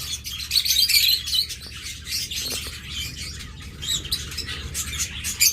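Small caged pet birds for sale, a master pair among them, chirp and tweet steadily in dense high bursts, with light flutters of wings as they flit about the cage; no one talks.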